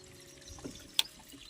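A natural spring in rainy Konkan seeps up from the ground with a faint, steady trickle of water, quiet and close, broken by one brief sharp drip or click near the end; no one speaks.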